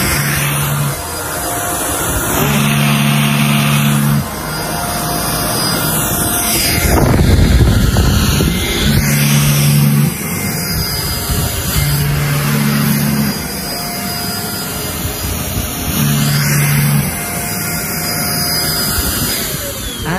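A Xiaomi mite remover bed dust vacuum cleaner runs continuously with a loud motor whine and whooshing suction, pitch shifting as it moves over bedding, with repeated tonal beeps and a brief louder surge midway.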